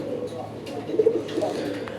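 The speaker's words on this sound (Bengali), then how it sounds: "অসাধারণ একজোড়া কবুতর আকাশি কালার" Local deshi pigeons, a pair of sky-blue birds, cooing softly in a few low, brief calls close by, over steady background noise.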